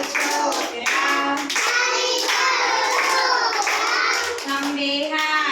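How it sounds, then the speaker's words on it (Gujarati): A group of Anganwadi preschool kids claps hands in time during a classroom game, bright clustered claps recurring every second or so beneath loud children's chanting. "તાળી પાડો છોકરાઓ"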